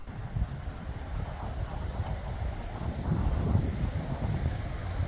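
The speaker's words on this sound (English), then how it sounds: "it's cold and windy" Cold wind blows steadily across an open outdoor cemetery, buffeting the microphone with low, gusty rumbles that swell and ease without pause.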